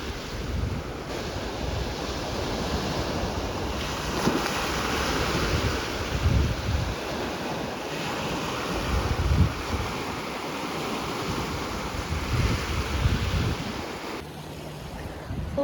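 Ocean surf rolling onto Pyeongdae beach on Jeju, a continuous wash of waves mixed with heavy wind buffeting the microphone, steady and fairly loud without speech.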